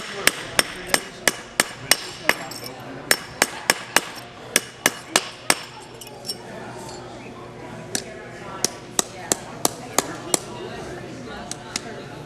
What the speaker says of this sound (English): with the stump being wood and this being rawhide, the ring can be shaped without damaging the ring